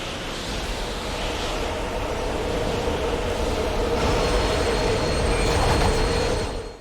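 Subway train in the Dead Space 2 video game, a steady loud rumble of rolling rail cars with faint metallic wheel squeal rising near the end, continuous and close throughout.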